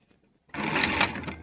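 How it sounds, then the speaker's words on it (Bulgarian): A Dürkopp Adler industrial sewing machine set for a double backtack starts stitching after a short silence, then runs loud and steady with a fast mechanical whir for the rest. "Започваме да шием."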